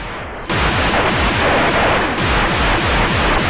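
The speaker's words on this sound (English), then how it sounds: "Sounds like there's another fast firing enemy out here" Loud, relentless rapid-fire shooting from a fast-firing enemy in the Commodore Amiga game Backlash hammers on without pause after a sudden start, with no talk over it.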